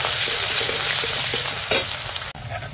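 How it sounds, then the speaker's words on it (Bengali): Onion fries in hot oil left over from frying a fish head, sizzling steadily while a spatula scrapes and stirs the pan in a few distinct strokes, ending with a sharp knock; no one speaks. "পেঁয়াজটা একটু ভেজে নেব"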